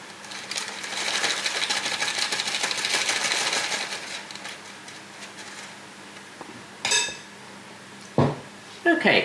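Metal spoon scraping and clinking against a metal muffin tray while blueberry muffin batter is spooned into paper cases: busy, continuous clatter for about four seconds, then quieter with a few isolated knocks near the end.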